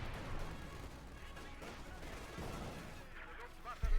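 Gunfire in Company of Heroes 2 as riflemen engage an MG-42 machine gun position, a steady dense clatter of shots and battle noise with a heavier blast near the end, under commentary.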